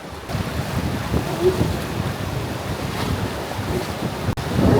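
Choppy river water on the Tenryu River in Tenryu Gorge washes and splashes around a traditional Japanese wooden boat, heard under heavy, constant wind rumble against the microphone.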